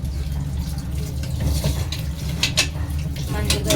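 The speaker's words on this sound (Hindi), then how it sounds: "मंज गए बर्तन," Dishes being washed under a running tap, with steady water flow and scattered clinks of utensils and pots in a sink, fairly close and continuous throughout.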